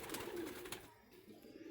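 Pigeons coo softly in a pigeon loft. A few low, rounded calls come from nearby at fairly low volume.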